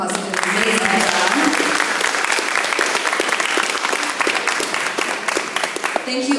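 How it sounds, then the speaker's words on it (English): An audience applauds fourth-grade performers at a school coffee house, giving sustained, loud, dense clapping with a few voices mixed in, steady throughout. "Give these guys another round of applause."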